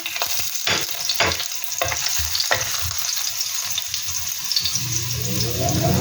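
Garlic frying in hot cooking oil, a steady close sizzle with a few sharp crackles and stirring clatter, the hiss swelling again near the end.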